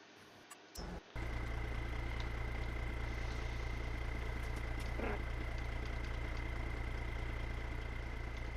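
Tractor engine idling in the video game Farming Simulator 22, a steady low droning hum with a constant even throb after a short broken start, close and continuous, no talking.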